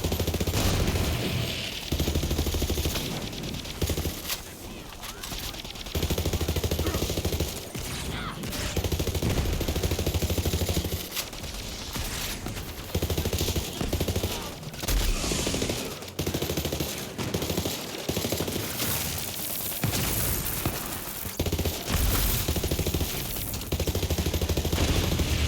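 Enemy gunfire in Borderlands 3, Bounty of Blood DLC: sustained rapid bursts of automatic weapons fire crackle almost continuously, loud and close, with brief gaps between volleys.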